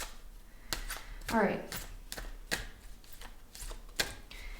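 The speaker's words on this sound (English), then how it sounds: "Let me shuffle it first" Several sharp papery riffling bursts of cards being shuffled, spaced irregularly, with a brief spoken remark in between.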